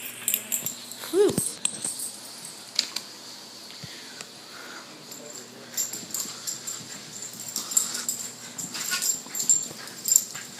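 A dog pants and wheezes close by, with quick breathy bursts and sniffs repeating in an uneven rhythm, plus a brief whimpering yip early on.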